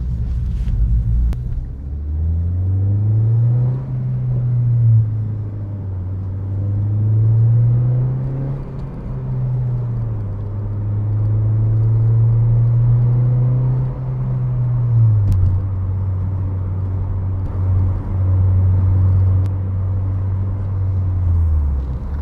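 A 9th-generation Honda Civic Si with a Yonaka exhaust drones steadily from inside the cabin at cruising speed, its engine note rising and falling in long, smooth swells under a constant road rumble.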